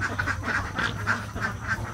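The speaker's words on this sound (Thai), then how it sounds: "เดี๋ยวไปขุนอาหารน้องเป็ดกันครับ" A group of farm ducks quack steadily in a rhythmic, close and loud chorus, the calls repeating about every quarter second, with no talk.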